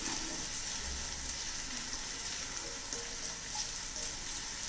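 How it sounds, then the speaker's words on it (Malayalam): Spice powders fry in a thick, very hot heavy pan while making a brinjal curd curry, producing a steady, close hiss of sizzling with no talk. "അപ്പോൾ ഈ ചൂടിൽ തന്നെ ഈ പൊടികളെല്ലാം മൂത്ത് വരും."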